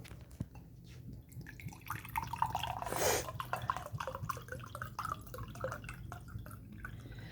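Water poured into a cup for making tea in a brief splashy gush, surrounded by quiet drips and small handling clinks in a calm room.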